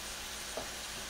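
Ground meat for Bolognese sauce sautéing and being stirred in a pan, a faint steady sizzle with one small stir noise and no talking.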